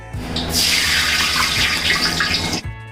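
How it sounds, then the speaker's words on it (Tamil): Water splashed into hot oil heated for making Mysore pak sets off a loud, steady hissing sizzle that lasts about two seconds and then cuts off abruptly. "நான் தண்ணி அடித்து காட்டுற பாருங்கள், இந்த அளவுக்கு சூடு இருந்தால் போதும்."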